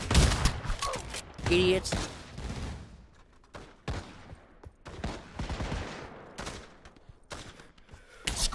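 Bursts of gunfire, some in rapid volleys and some as sharp single shots, ring out in the VR shooter game Pavlov, with someone talking between and over the shots.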